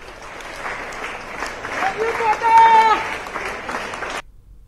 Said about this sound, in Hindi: एलन कोचिंग संस्थान के डायरेक्टर ने ताली बजाकर छात्रों को विदा किया